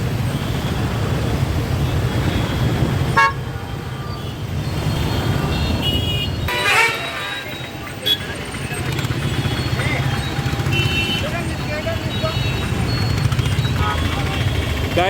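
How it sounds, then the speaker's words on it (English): Heavy road traffic on a busy Hyderabad street, a dense continuous roar of engines and passing vehicles close by with a few brief louder horn-like bursts. "There's a lot of traffic right now today."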